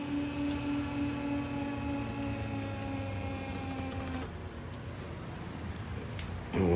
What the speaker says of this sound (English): we can press down on that brake just by using the seat motor